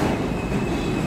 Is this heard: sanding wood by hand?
no